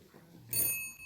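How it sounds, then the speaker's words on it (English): A warning bell marking a speaking time limit at a World Tuberculosis Day event in Nagaland rings once, a bright metallic strike with shimmering overtones that rings on and slowly fades, alone over faint room noise. "so that's the warning bell"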